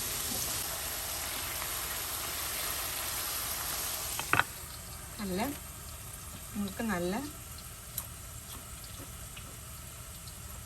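Ripe plantain slices fry in hot oil for traditional banana chips, giving a steady, soft sizzling hiss throughout, with a few brief clinks and a voice speaking over it.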